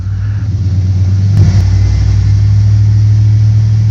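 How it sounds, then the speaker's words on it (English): A vehicle engine with a 46RE automatic transmission in reverse holds at a raised 1600 RPM, a loud steady low droning rumble up close with a brief bump in the middle. "Put the transmission in reverse and bring the engine up to 1600 RPMs."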